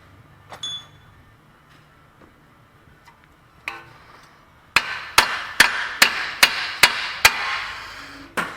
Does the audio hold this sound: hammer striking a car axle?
yes